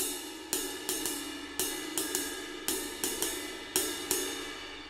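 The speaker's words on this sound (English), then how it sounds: "The next one would be the jazz ride cymbal pattern." Jazz ride cymbal pattern played on a drum kit, with bright washy cymbal strokes in the familiar ding, ding-a-ding swing figure, repeating evenly and close for a few bars without talk.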